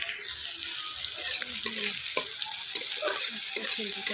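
Chopped garlic dropped into hot oil for a red lentil dal, giving a steady close sizzle with scraping stirring strokes throughout, no voices.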